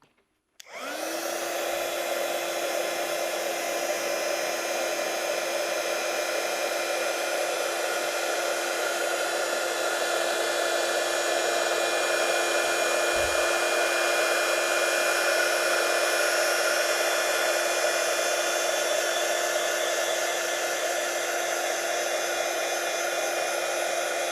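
A hair dryer drying hybrid paint layers on an oval mirror frame craft project switches on and runs continuously at a loud, steady whine with a constant hum, close by and with no talking.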